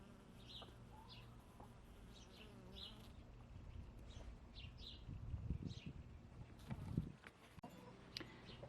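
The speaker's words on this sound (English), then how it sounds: "And the bees are happy with them too." Faint buzzing of bees drifting close and away around cactus flowers in a garden, with soft scattered chirps and a few low thumps in the background.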